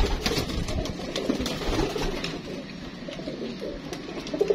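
Pigeons coo softly in a low, repeated murmur, with several birds close by and faint background noise throughout.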